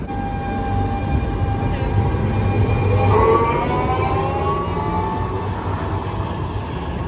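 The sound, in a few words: Lisbon yellow tram departing from Praça do Comércio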